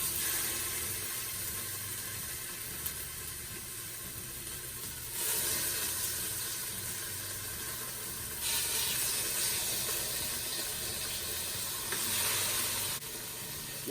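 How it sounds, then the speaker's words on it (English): Pork chops sear in a Ninja Foodi with a steady, close hiss and sizzle that swells in a few stages, continuous and moderately loud with no voices. "Let's sear those pork chops."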